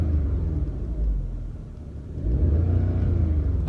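Audi S3 facelift with its factory exhaust, heard from inside the cabin: a low engine rumble idles, then rises into a couple of deeper, louder revs near the end, with no talking.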